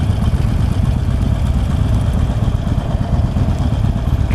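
A 2016 Harley-Davidson Forty-Eight V-twin engine runs steadily and close by, a deep continuous low rumble with a slightly uneven, lumpy pulse, heard alone with no voices.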